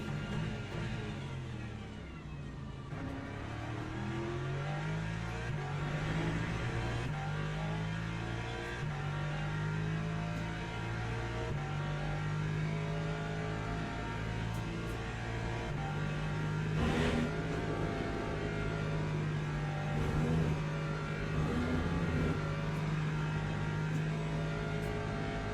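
Steady engine drone of a Porsche race car in a 62-car endurance race at Spa in a racing game, with droning tones rising and falling through gear changes, continuous and moderately loud without talk.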